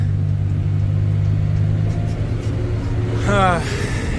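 A backhoe engine runs at a steady low rumble on a farm while dirt is being moved. A brief rising whine or chirp cuts in near the end.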